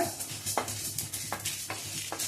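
Dry spices roasted in a pan, scraped and stirred, a few distinct sharp scrapes over a faint steady hiss.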